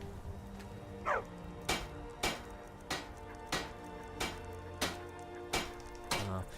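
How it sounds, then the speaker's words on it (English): A dog in the video game Skyrim barks repeatedly in short, evenly spaced yips and woofs, about eight or nine sharp barks over a few seconds, close and clear with no talking. "You don't have to keep barking at me, Miko."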